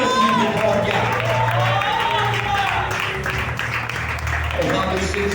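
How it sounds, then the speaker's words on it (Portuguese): A Pentecostal congregation claps in church during worship, a continuous wash of hands under a preacher's voice and music, steady and moderately loud. "palmas de vitória"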